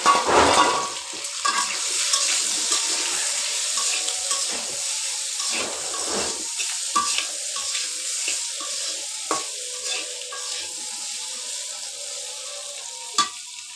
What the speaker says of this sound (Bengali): আলুগুলো সিদ্ধ করে টুকু টুকু করেছে হলুদ লবণ দিয়ে ভেজে নিচ্ছি